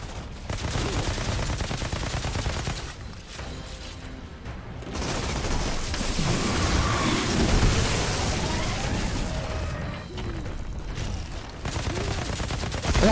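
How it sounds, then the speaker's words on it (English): A grenade blast in the Outriders shooter, a loud booming burst followed by a long rumbling, crackling roar that carries on through the clip with dense battle noise, no voices. "That do be a grenade."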